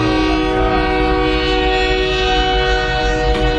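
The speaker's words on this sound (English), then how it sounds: "Now there's a train." A train rolls by close and loud, its sustained horn blaring steadily over the low rumble of the cars.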